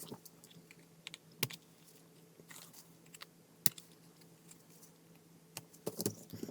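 Cardstock pieces for a Christmas card are trimmed in a quiet room, with a few sharp crisp clicks and faint crunching, scraping handling sounds in between.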